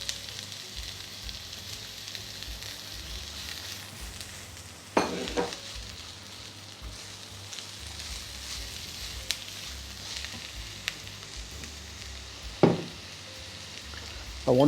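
Finely chopped onions fry in neutral vegetable oil in a pan, giving a low, steady sizzle broken by a few sharp clinks of a utensil.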